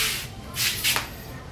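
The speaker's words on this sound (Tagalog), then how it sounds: "i-spray lang natin to, no? Dito sa ating condenser" Cleaner is sprayed onto the AC condenser of a Mitsubishi Montero Sport in two short, close hissing bursts over a faint background hiss.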